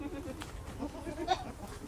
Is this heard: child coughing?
no